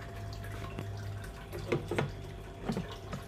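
Water splashes and drips into a 12-volt solar-powered portable water heater, with a few soft gurgling splashes in a quiet setting.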